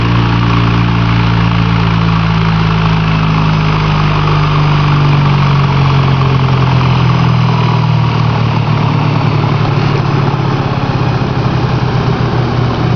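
A large uncaged fan with an aluminum blade is slowed down on a variable transformer, giving a loud, continuous motor-like hum and whir with a steady low drone that gradually lowers in pitch, heard close up with no speech.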